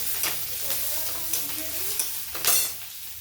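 Chopped raw onion frying in a pan for a snail curry, with a steady close sizzle broken by several sharp stirring scrapes, the loudest near the end.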